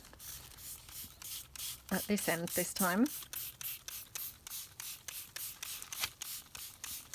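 Repeated short hissing bursts of a spray bottle misting ink onto paper, in a steady rhythm throughout, close and fairly loud, with a brief stretch of someone talking in the middle.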